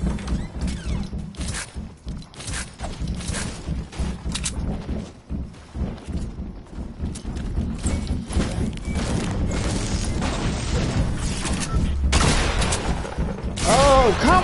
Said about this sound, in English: How is he shooting the fucking pump that fast?